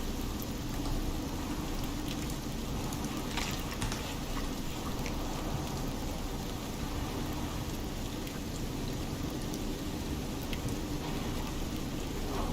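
Steady storm rain in the survival game Icarus: First Cohort, an even, continuous wash of downpour at constant loudness with no voices over it.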